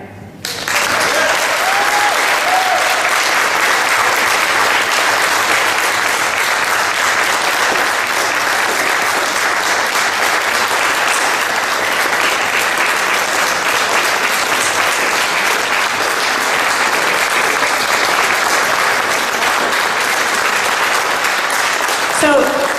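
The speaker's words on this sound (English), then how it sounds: "I really appreciate that warm-hearted applause" Sustained crowd applause at a mayoral campaign launch, a loud, dense roar of clapping with some cheering that rises fast and holds steady for over twenty seconds.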